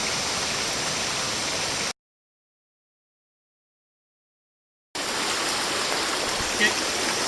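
The Pokemouche River, at the Pollard River, flows as a steady broadband rush of stream water close by, continuing before and after a three-second gap of silence, with no talk.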